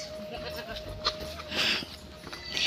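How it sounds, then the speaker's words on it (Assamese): Goats, some of them tall Ram goats, bleat out in the open, with a few short calls rising over faint background murmur and movement. "বহুত ছাগলী আছে আৰু আগলৈও আছে গাইজ ছাগলী"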